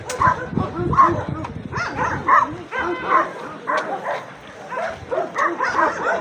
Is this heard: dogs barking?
yes